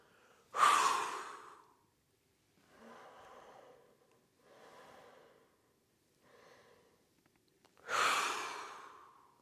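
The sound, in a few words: deep breathing during a yoga exercise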